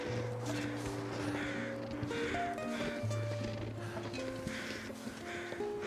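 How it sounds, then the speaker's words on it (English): Crows cawing in The Long Dark, a survival video game, repeated calls scattered over a steady layer of wind and ambient game sound, moderately loud and fairly close. "I do hear some crows"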